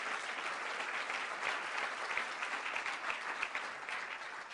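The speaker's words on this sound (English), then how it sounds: "I think that deserves a round of applause." An audience applauds at a formal anniversary celebration, steady dense clapping from a sizable crowd heard at a distance and held at an even, moderate level for the full few seconds, with no voices.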